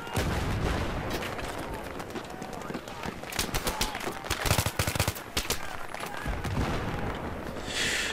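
Rapid bursts of gunfire crackle in Battlefield 3 combat, dense and loud with heavier blasts around the middle, while a voice shouts urgently over the shooting.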